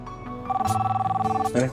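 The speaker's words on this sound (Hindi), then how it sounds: "मॉम का फोन आ रहा है, एक सेकंड।" A phone rings with an incoming call during a Hindi TV drama scene: a pulsing electronic ringtone holds for about a second at moderate loudness, then a voice briefly cuts in at the end.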